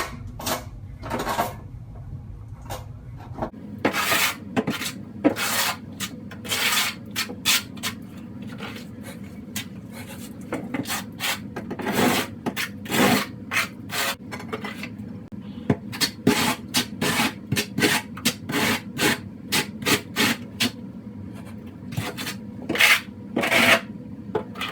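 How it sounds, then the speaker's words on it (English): A half-inch notched trowel scrapes and spreads mortar across a shower floor, with repeated short, gritty strokes in an uneven rhythm, close and moderately loud, and brief pauses between passes. "I use a 1/2 inch trowel."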